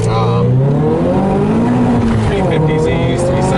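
A Kraftwerks C30 supercharged Scion FR-S pulls hard with a loud sustained engine roar rising in pitch through the gear, heard from inside the car with occupants talking over it.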